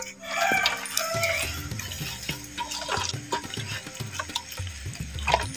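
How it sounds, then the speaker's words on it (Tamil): Water is poured into a fish-frying masala mix during village-style home cooking, a close, continuous splashing trickle that runs steadily without any talking. "தேவைப்பட்டால் மசாலா கொஞ்சம் தண்ணி சேர்த்துக்கிறோம்"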